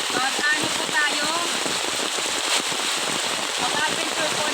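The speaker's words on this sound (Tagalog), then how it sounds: "dahil malakas ang ulan" Heavy rain pours down steadily and loudly on surfaces close by, a dense unbroken hiss with a voice speaking over it.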